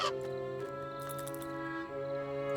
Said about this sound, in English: So why is that crow making so much noise?